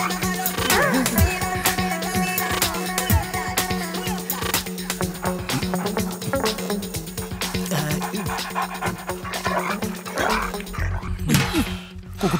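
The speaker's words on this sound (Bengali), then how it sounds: "কুকুরটা চলে গেছে, এবার ফোন করে দেখি।" A dog barks and yips repeatedly close by, with whimpering mixed in and clattery background noise, the calls recurring irregularly across the whole stretch.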